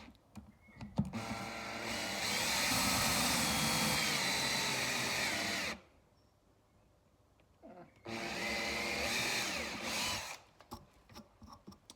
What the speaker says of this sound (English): it is time for the drill. We'll start with 5 millimeters and follow up with 8.